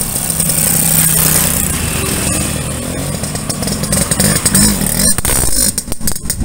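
A restored, modified classic Yamaha V80 motorcycle engine runs close and loud, with a busy, buzzing two-stroke idle and small throttle changes throughout.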